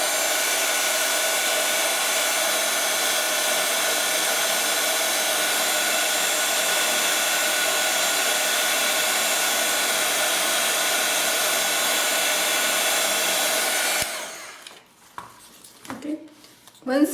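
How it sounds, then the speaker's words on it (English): A hot glue gun blows a steady stream of hot air over a large paper peony flower, a loud, even whoosh that holds unbroken for about fourteen seconds before cutting off, followed by a few faint handling sounds. "you can again try to dry them with your hot glue gun"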